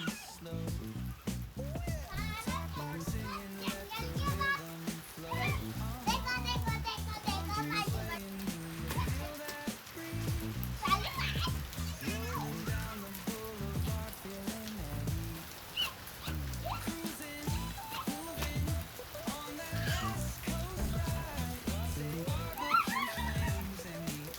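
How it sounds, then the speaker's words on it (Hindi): First summer rain with children playing in it, steady patter under excited children's voices, squeals and laughter and adult talk, lively and close throughout. "तो गर्मियों की पहली बारिश आ चुकी है और पहली बारिश में इन लोगों को देखो।"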